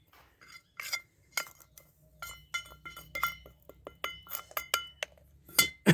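Ajwain khurasani seeds poured over a mixture in a glass container, with bright glassy clinks and small tapping hits in an irregular run, close and clear with no talking.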